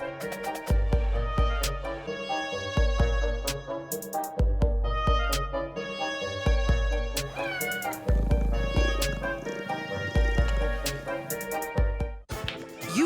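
A cat meows several times over loud background music with a steady beat, in a TV commercial setting.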